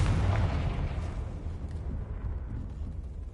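A fiery blast from the Confringo spell in the Hogwarts Legacy game booms loudly at the start, then a rumbling roar fades over the next few seconds.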